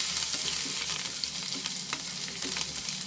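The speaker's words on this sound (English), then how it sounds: "Now we'll add, once the oil is heated, we'll add the chopped garlic. Saute the garlic." Chopped garlic sautéing in hot oil for a chicken and broccoli stir fry, a steady close sizzle with faint stirring scrapes throughout, no voices.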